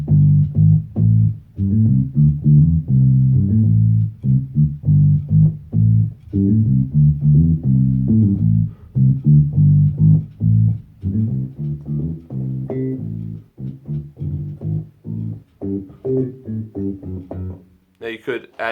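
A bass line played on the lower section of a split keyboard, sounding as steady, low, rhythmic notes in a loud, close, continuous phrase, with a brief brighter sound at the very end.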